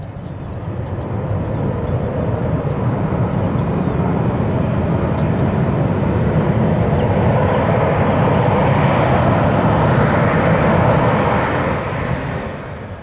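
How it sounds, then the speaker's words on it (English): An American Airlines Airbus A319 jet airliner from Miami arrives at Tampa International Airport, its loud broadband engine roar swelling steadily, holding close for several seconds, then easing off at the end. "This should be our American A319 minibus from Miami, MIA International."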